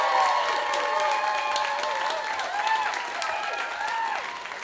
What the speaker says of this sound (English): please clap your hands and stamp your feet now.